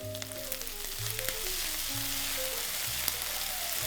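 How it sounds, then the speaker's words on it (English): Shredded scallops frying in a pan, seasoned with salt and oyster sauce, give a steady close sizzle with a few faint clinks, alongside a low background hum and no voices. "Add the shredded scallops and let that cook for another minute"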